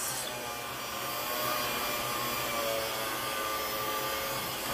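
A hair dryer blows steadily to dry freshly washed locs, a continuous loud broadband whoosh with a constant motor hum underneath and no talking.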